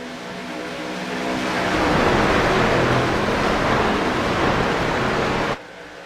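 A pack of stock cars roars off at the start of a race stage. The loud, dense engine noise swells over the first two seconds, holds steady, then cuts off abruptly near the end.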